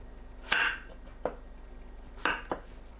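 Knife slicing thick pieces of king oyster mushroom on a cutting board: four crisp, separate cuts spaced unevenly, two close pairs of sharp thunks in a quiet kitchen with no talking.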